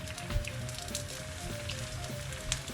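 Spring onion and vegetables sizzling in hot vegetable oil with garlic in a beef and noodle stir fry, a steady soft crackle with small pops, close and unbroken.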